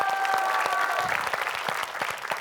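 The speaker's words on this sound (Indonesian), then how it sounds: "Tepuk tangan." A burst of enthusiastic clapping from a group, steady and dense for a couple of seconds, with a brief tone ringing at the start.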